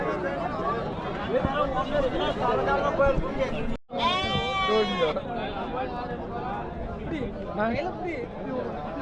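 Goats bleating at a crowded goat market in Mecheri, Salem, with quavering calls rising over steady crowd chatter and nearby talk throughout.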